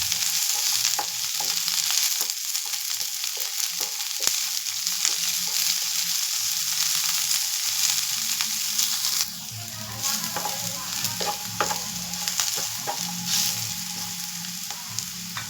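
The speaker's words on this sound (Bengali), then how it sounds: "গাজর ক্যাপসিকামটা ভাজা ভাজা হয়ে গেছে" Carrot and capsicum sizzle continuously in a hot pan for veg hakka noodles, while a spatula stirs with repeated clacks and scrapes. The tone shifts partway through as the stirring changes. No one speaks.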